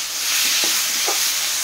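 Masala with a little added sugar stirred and fried in a pan, a soft steady sizzle with a couple of brief scraping strokes, close and alone.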